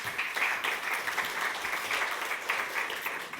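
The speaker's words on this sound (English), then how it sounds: "Give her a big round of applause." Steady, moderately quiet applause from a conference audience at Radiodays Europe 2024, a panel on branded podcasts, with dense continuous clapping that holds evenly throughout.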